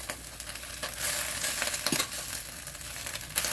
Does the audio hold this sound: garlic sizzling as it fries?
yes